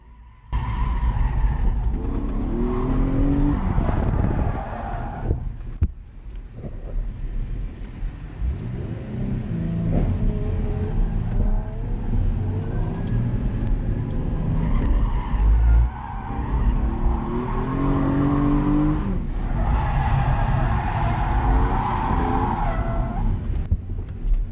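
A car drifts and spins out on a track on a first lap back, its tyres squealing and skidding almost continuously over a loud engine drone, with the screech swelling and easing as the car slides.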